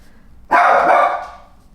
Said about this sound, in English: what is happening in the doggy world, Cooper?